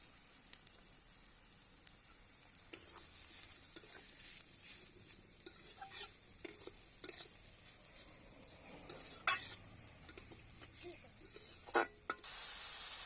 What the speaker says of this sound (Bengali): পেঁয়াজ লঙ্কাটা আর আদাটা আমি ভেজে নেব